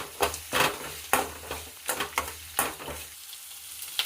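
Grated fresh ginger frying in a pan for raw mango chitranna, heard as close, repeated scraping stir strokes over a crackling sizzle, with the bursts fading into a quieter hiss at the end.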